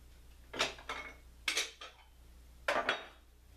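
A knife slices butter into thin pieces for a homemade apple pie, with three separate clinking strokes of blade against a dish in a quiet room.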